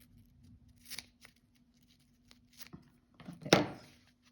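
Scissors snipping through slightly ridged cross grain ribbon while wrapping a bauble: quiet, close paper-like crisp snips with soft rustles, ending in one sharper, louder cut.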